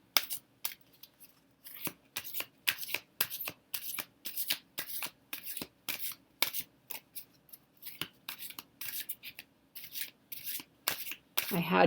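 Crisp, rhythmic riffling of a tarot deck being overhand shuffled by hand, in quick repeated bursts with short pauses between, close and clear.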